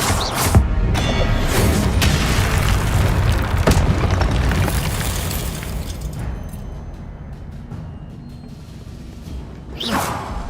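Fiery whooshes and booming impacts from an Incendio fire spell in Hogwarts Legacy, loud and repeated early on, fading to a rumble before one more burst at the end.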